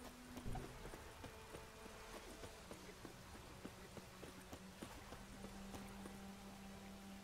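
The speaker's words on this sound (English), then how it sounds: "Horse is summoning." Faint, steady hoofbeats of a summoned horse galloping in The Witcher 3, a quiet rhythmic clip-clop over a low game soundtrack hum.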